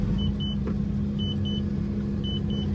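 A Volvo Penta V6 4.3 GXi marine engine running rough, a steady close low rumble with a slightly uneven throb and a few short high beeps over it, no talk.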